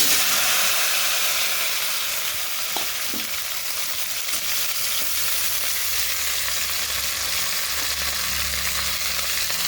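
Chopped okra sizzles in hot oil with ground chili and spices in a pan, a steady loud frying hiss running throughout with faint stirring taps and no talking.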